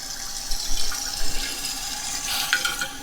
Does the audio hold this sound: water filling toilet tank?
yes